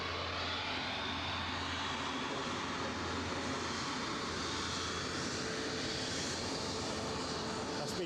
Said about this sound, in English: And a bit of fast taxiing here.